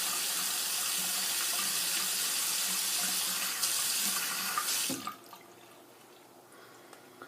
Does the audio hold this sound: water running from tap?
yes